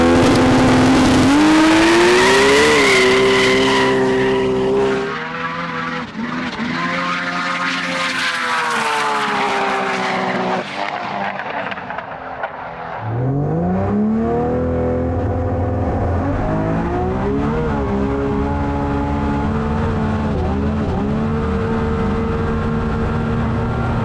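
A Nissan GT-R drag car making over 1000 hp launches and accelerates hard down a runway, its engine roaring loud and close with rising revs, a gear change around five seconds, then another climbing pull that fades slightly into the distance.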